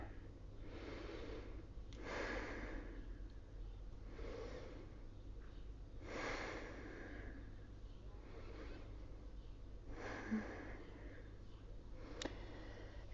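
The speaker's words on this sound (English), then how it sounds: "Nice slow breathing here." Slow, deep breaths during a gentle vinyasa yoga flow focused on hip opening, with several long inhale-exhale swells repeating every few seconds over a low steady hum, close and soft.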